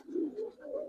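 Giribaz pigeons coo softly nearby, two or three low, rolling coos in quick succession with no voices over them.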